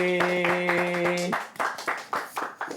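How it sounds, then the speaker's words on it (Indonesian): Clapping from a small group at a studio talk show, heard as uneven separate claps after a held musical tone fades, close and moderately loud. "Tepuk tangan lu semua buat Mahal ini"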